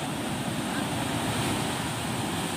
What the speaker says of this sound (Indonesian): Dan kelihatan ombak makin tinggi karena cuaca yang